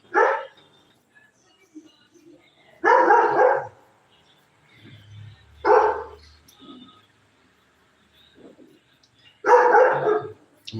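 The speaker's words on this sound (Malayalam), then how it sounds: "കൈസറിനെ തുടങ്ങാനുള്ള സമയമായി അതാണ് കൈസർ ഇങ്ങനെ കുരയ്ക്കുന്നത്" A pet dog barks in four separate loud bursts spaced a few seconds apart, close by, with quiet gaps between.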